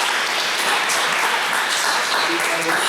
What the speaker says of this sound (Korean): 박수 한번 쳐줘야 되는 거 아닙니까?